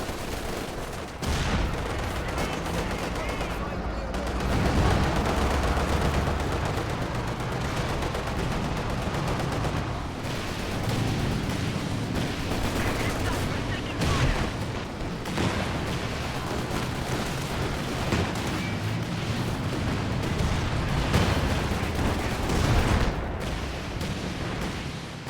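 A battlefield in a World War II strategy game, with guns firing on a King Tiger tank: sustained machine-gun and rifle fire, heavy cannon thumps and occasional explosions rolling on without a break, loud and dense throughout.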